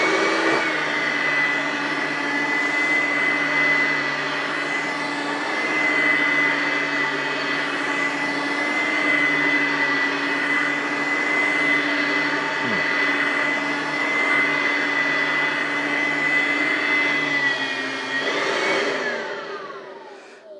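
Riccar Supralite and Oreck XL21 upright vacuum cleaners run on carpet, a loud continuous whine with a steady tonal hum that winds down near the end.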